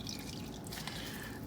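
Water drips and trickles from wet meatball mix squeezed and wrung out by hand for homemade Italian meatballs, a close, steady liquid dribble with small splashes and no talking.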